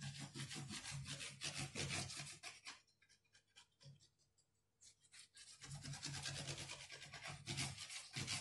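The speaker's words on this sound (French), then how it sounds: "on met bien de la colle partout pour que ça tienne bien" Glue is spread over paper for an accordion-structure album with rapid back-and-forth rubbing strokes, close and steady, pausing briefly in the middle before the rhythmic brushing resumes.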